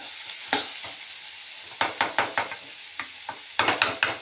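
Frying in a pan under a soft sizzle, with a spoon scraping and clacking in quick irregular bursts of stirring.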